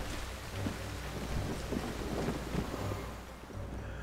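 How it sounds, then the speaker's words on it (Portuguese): Rain and thunder in the video game Wo Long: Fallen Dynasty, a steady wash of rainfall with low rolling rumbles swelling and fading underneath, continuous and fairly loud with no voices. "tem chuva agora aqui"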